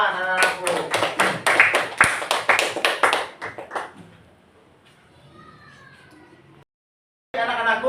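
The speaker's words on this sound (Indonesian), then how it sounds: "beri tepuk tangan anak-anakku" Children in a classroom clapping together in a quick rhythmic burst of about a dozen claps that fades out, followed by quiet room noise and a short gap before more sound returns.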